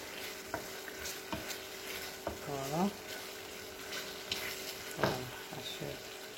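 Tomatoes and onions fry in a pan while being stirred, with a steady sizzle under scattered scraping strokes of the spoon. One brief tonal whine rises partway through.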